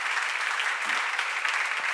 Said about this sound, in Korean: 빨리 박수 쳐요.